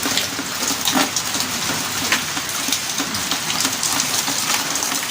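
Water gushes from a tap into a container, a steady, close, noisy rush that continues without pause and with no voices.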